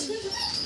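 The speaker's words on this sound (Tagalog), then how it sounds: "pinakawalan ng aso" A dog whimpers in a brief high, thin whine, close by, amid the background chatter of a 50th birthday celebration.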